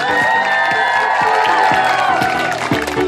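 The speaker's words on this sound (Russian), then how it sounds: "Аплодисменты 8-му отряду!" Loud sustained cheering, whooping and clapping from a crowd of campers at the Volna children's camp in 2018, roaring continuously for the 8th squad before easing slightly near the end.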